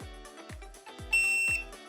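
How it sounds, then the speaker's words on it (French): A sharp electronic beep from a Daikin reversible air conditioner remote control rings out over a rhythmic thumping background pattern, short and bright, standing clearly above the rest. "Un bip court signifie que le code affiché n'est pas présent sur l'installation."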